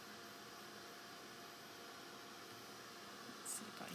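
A handheld dryer blows a steady, broadband whoosh over a wet index card, constant and fairly close throughout with only a slight swell near the end.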